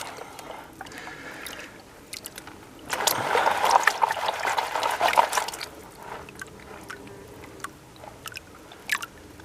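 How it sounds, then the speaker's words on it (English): A gold pan dragged back through shallow stream water with its rim just under the surface, a burst of sloshing, swirling water lasting a few seconds amid quieter trickles and small splashes. "what you want is the rim of the pan to just be just under the surface of the water, and you can drag it back"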